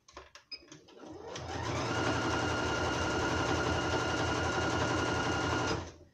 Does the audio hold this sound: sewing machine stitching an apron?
yes